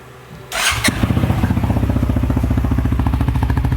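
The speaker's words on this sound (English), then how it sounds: "let me show you first what this exhaust sounds like" A 2020 CF Moto CForce 600 ATV fitted with an aftermarket exhaust tip cranks briefly, fires up with a sharp burst, then settles into a loud, close, steadily pulsing idle.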